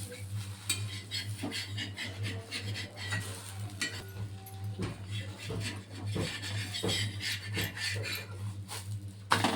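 A wheat flour ghavan gets flipped and moved in a pan with a spatula, making repeated close scraping and rubbing strokes and light utensil knocks over a steady low hum.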